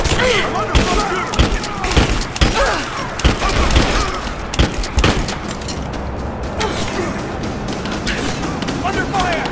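Firefight in the video game Rise of the Tomb Raider, with dense bursts of gunfire and heavy booming shots cracking repeatedly, loud and close, while voices shout over the shooting.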